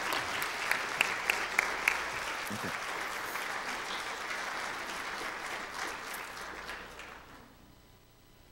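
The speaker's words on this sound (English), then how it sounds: "I know we're not supposed to applaud, but you can on this one." A church congregation at a Good Friday service claps for several seconds, a few sharp claps standing out early before the applause thins and fades away; one short spoken word is heard.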